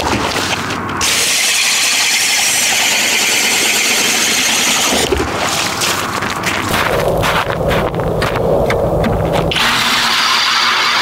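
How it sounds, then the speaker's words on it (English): A Kobalt XTR cordless drill bores holes, its high whine running loud and close in long bursts broken by short pauses, with no talk over it. "I accidentally did a double hole here, so that was probably a little harder on the drill."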